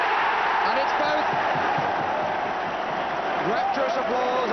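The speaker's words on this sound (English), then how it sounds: "Rapturous applause around the Victoria ground." A football crowd at the Victoria Ground, Stoke, applauds after a penalty, a dense sustained roar of clapping and cheering filling the whole stretch, with a commentator's voice running over it.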